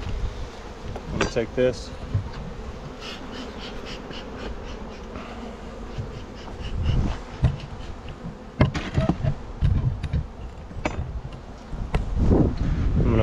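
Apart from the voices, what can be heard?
honey bees buzzing around an open hive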